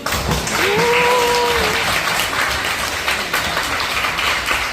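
Audience applause at a Gyeongnam women leaders' council meeting: dense, steady clapping fills the whole stretch at close range, with a brief raised voice or whoop rising above it early on.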